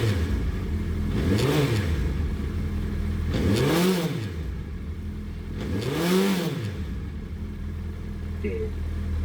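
A Suzuki Hayabusa GSX1300R second-generation motorcycle engine idles, then revs up and falls back three times in even, rising-and-falling sweeps, close and loud throughout.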